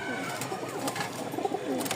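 A Giribaz racing pigeon coos softly in short, low murmuring bursts, faint and close, under a quiet background with someone talking.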